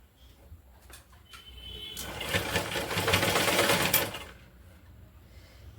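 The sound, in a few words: sewing machine stitching waste cloth doormat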